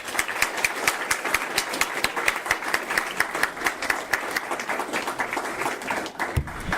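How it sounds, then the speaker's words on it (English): An audience at a meeting gives a round of applause, many hands clapping densely and fairly loudly with an even rhythm for several seconds before it thins out at the end. "let's give him another round of applause"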